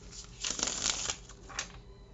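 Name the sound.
shuffling a deck of cards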